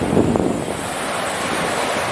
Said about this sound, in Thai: ไม่แน่ใจว่าในในช่วง ปกติ คลื่นเขาจะแรงอย่างนี้หรือเปล่านะครับ